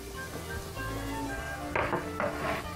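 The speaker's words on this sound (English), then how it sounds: "when you add the vegetables, and you know they're sizzling properly." Onions, celery and carrots for sofrito sizzling in a pan, a steady crackling fry with clattering bursts of stirring near the end, close and continuous without talk.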